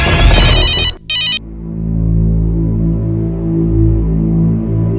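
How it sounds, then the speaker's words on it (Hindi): A telephone rings loudly in a domestic drama scene, two bursts of electronic ringing cut off within the first second and a half, leaving a low steady hum afterwards. "ये तीसरी बार फोन काट रही हो तुम।"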